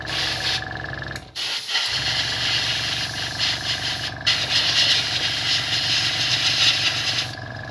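A small airbrush compressor runs on a tabletop while chrome paint is sprayed onto a G1 Optimus Prime model kit, giving a loud, constant mechanical hum and hiss that cuts out briefly a couple of times.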